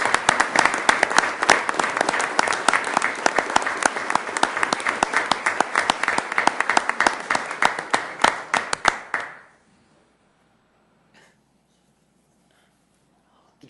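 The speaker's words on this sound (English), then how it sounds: "would you mind giving all of these young people and all these great people a round of applause" Audience applause at a council meeting, a dense, steady round of clapping for about nine seconds that fades out and leaves near silence.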